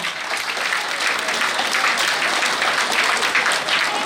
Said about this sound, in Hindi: जितने भी जवान हैं उन लोगों को जोरदार तालियों से स्वागत करिए